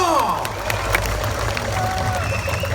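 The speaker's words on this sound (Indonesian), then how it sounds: "Tepuk tangan buat beliau." Crowd at an outdoor NasDem political rally in Lampung applauding and cheering Surya Paloh, loud and continuous, with shouts and whistles mixed into the clapping and a low rumble beneath.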